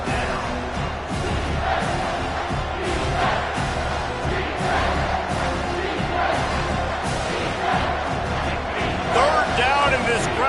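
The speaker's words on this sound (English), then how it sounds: "this crowd will blow out a vocal cord to help this defense" A dense football stadium crowd roars and cheers for the defense, a loud, sustained wall of voices that swells briefly, with an announcer talking over it.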